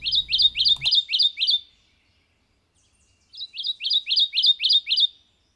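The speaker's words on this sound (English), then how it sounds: "It is a bird, obviously, as you can tell." A spring migratory bird calls in a forest, loud and close: a rapid series of bright, repeated chirping notes, a pause of about two seconds, then another matching burst.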